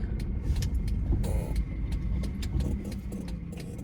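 A car engine starts up before driving off on a driving-test route in Uzhhorod, giving a continuous low rumble that holds steady at close range. Faint clicks and rattles sit above it, and no one speaks.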